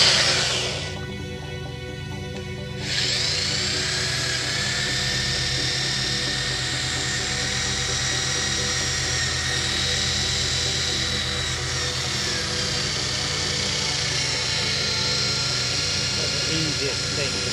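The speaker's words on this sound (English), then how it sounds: "I've fully attached it to the drill." A power drill fitted with a polishing attachment runs steadily on a Porsche Boxster 987 headlight during restoration with a headlight kit, a loud continuous whine that starts after a brief pause and holds throughout.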